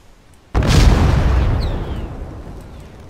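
A grenade blast in a multiplayer military shooter game: a single loud, sudden boom that rolls out into a long fading rumble, with nothing else heard.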